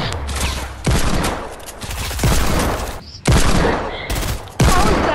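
Hand cannon gunfire in the Fortnite video game: several loud, sharp shots come in separate bursts with short gaps, each ringing out briefly before the next.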